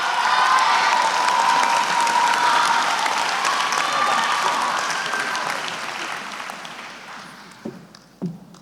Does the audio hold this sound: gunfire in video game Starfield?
no